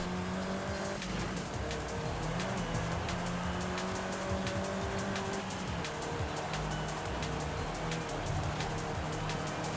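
A car in the racing game Forza Horizon 5 brakes too hard into a corner, engine roaring loudly throughout with squealing tires and shifting revs, continuous and close.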